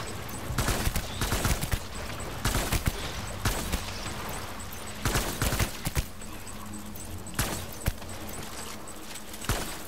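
Gunfire in Death Stranding, repeated sharp shots in short bursts and single cracks spread across the stretch, moderately loud over a steady background hum.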